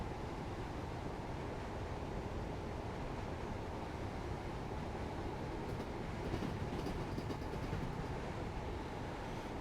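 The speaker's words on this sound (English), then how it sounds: "I just wish this train was a bit noisier." Train running on the rails of the London to Brighton commuter line in the Train Sim World 4 video game, a steady, fairly quiet rumble of wheels on track with no talk.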